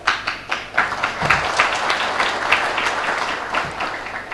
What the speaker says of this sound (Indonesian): terima kasih untuk tepukan yang diberikan kepada Pak JK